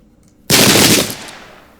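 A musket volley in the Pike and Shot Campaigns battle game, at Prestonpans in the Jacobite Uprising, bursts out as one loud crackling blast of massed gunfire that rings on and fades over about a second.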